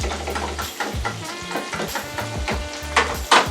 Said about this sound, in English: I'm just going to give this one more quick whisk